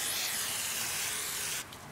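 Cleaner sprays in a steady, close hiss into the cylinder of a 1993 Suzuki RM 125 motorcycle during a rebuild, then drops off sharply near the end.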